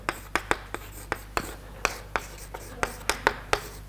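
A lecturer writes on a classroom board during a probability lecture on Bayes' law, producing a rapid, irregular series of sharp taps and strokes, close and clear over a faint room hum.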